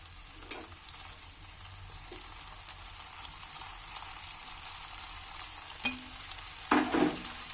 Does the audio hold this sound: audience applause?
no